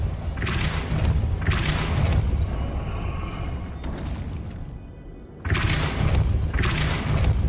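Depulso force-push spell effects in Hogwarts Legacy: loud booming, thudding blasts with shattering debris, one burst near the start and a second heavy burst after a quieter stretch with a brief silence.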